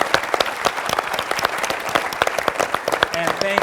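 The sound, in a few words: audience round of applause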